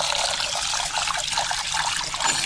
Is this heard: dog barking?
no